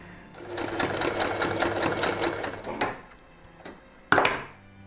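A sewing machine stitches a lavender heat pack, a fast, even mechanical whirr for nearly three seconds, then stops, followed by a few clicks and a sharp thunk as the fabric or machine is handled.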